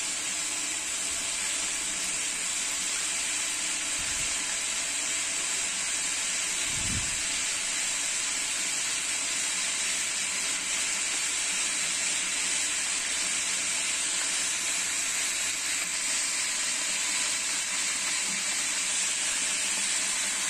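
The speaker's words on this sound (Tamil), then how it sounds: "எண்ணெய் நல்லா சூடாயிட்டு வருதுங்க." Cooking oil heats in a large pot on a stove for a big batch of chicken gravy, giving a soft steady hiss and faint sizzle throughout, with a couple of dull low knocks partway through.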